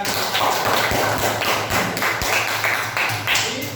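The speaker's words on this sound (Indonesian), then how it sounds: "kita beri tepuk tangan" A small audience claps during a teacher training session at UIN Walisongo Semarang, sparse, uneven hand claps and taps with some thuds, fairly close and loud, without a full roar.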